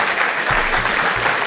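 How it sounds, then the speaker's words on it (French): A student eloquence contest audience in a university hall claps together, a loud, continuous wash of applause with a few heavier thumps. "On peut l'applaudir aussi, je pense."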